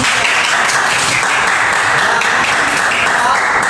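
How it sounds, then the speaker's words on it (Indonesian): A classroom of junior high teachers at a microteaching workshop claps, a loud, steady burst of dense applause held evenly from start to finish. "Kita kasih tepuk tangan"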